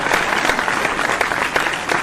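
An audience at a kavi sammelan poetry recital in Bhidawad bursts into loud, dense clapping, a continuous wash of many hands heard close with no talk over it.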